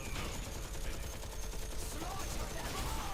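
Continuous dense gunfire in Heroes of the Storm, a steady rattling barrage that fills the whole moment without a break.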